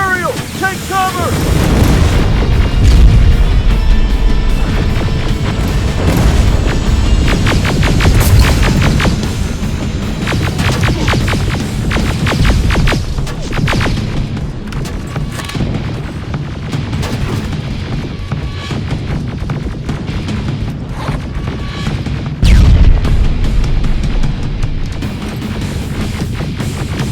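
Rocket blasts and heavy weapon fire boom through a dense Terminator Resistance firefight, with booming impacts under continuous loud combat noise and a few shouted voices.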